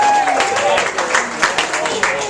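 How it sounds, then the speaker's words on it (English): Comedy club crowd clapping and cheering in a short burst, loud and close, with scattered individual claps standing out and a voice speaking over it. "Give yourselves a round of applause!"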